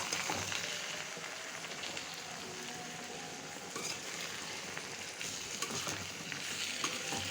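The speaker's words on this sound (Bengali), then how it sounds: "এখন আমি আচারটা নেড়ে দিচ্ছি।" Spiced mango pickle with onion, garlic, salt, turmeric and chilli powder being stirred in a pan, heard as a faint, continuous sizzle with soft scraping and no voices.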